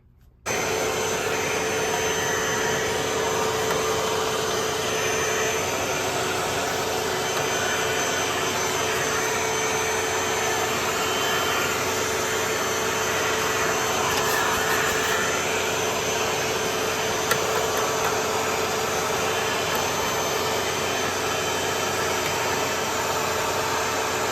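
A vacuum cleaner runs steadily and loudly as dust is cleaned out of an old Pioneer VSX-9900 AV receiver, a continuous whining drone with no pauses from start to finish.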